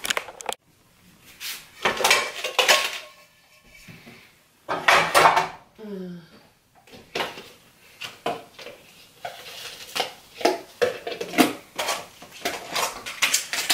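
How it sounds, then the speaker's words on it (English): Dishes and cups being washed in a kitchen sink, with irregular clinks and clatters of crockery and cutlery, running water and a brief voice partway through. "So let me go do some dishes."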